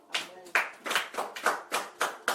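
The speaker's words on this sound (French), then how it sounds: "Applaudis pour toi." Church congregation clapping hands together in a steady rhythmic beat, about two claps per second, sharp and close, with a faint voice underneath.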